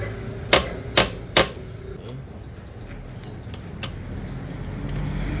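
Three sharp metallic hammer strikes in quick succession on a Yamaha Nmax Turbo scooter during an oil change, followed by faint outdoor background noise and a lighter tap.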